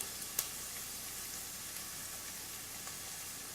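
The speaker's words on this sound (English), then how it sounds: "It sounds like there's a little bit too much crackling going on" Bolognese sauce cooking in a pan, a soft steady crackle and sizzle with occasional sharper pops, fairly faint and continuous throughout.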